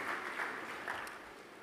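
An audience applauds a keynote speaker at the Connected Africa Summit, a steady wash of clapping at moderate volume that gradually fades.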